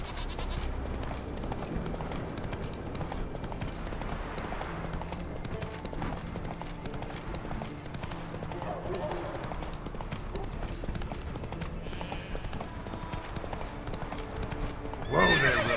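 Roach the horse in The Witcher 3 video game, a steady rhythmic clip-clop of hooves trotting with a sharp neigh at the very end, with a voice speaking briefly over the hoofbeats.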